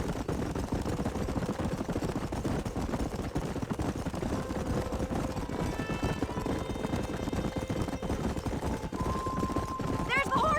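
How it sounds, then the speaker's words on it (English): Horses gallop in the Western video game Red Dead Redemption, a busy drumming of hooves under game engine noise, with voices shouting over the action. "There's the horses!"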